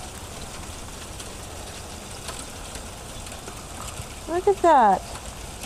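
Tiny hail falls and bounces outdoors during an April storm in Fargo, North Dakota, making a steady, even hiss of fine pattering. A person speaks briefly near the end.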